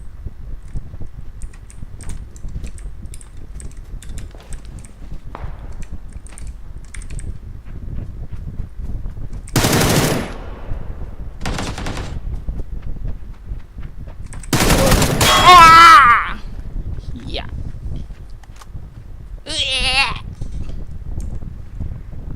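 Valorant gunfire heard as a few separate loud bursts of rapid shots over a steady background hum, with a bleating-like in-game sound among them and long quieter gaps between.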